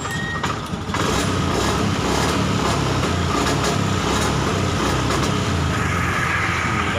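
Motorcycle engine sputtering and failing to rev cleanly after being washed, a steady loud rumble running throughout with a brief dip near the start.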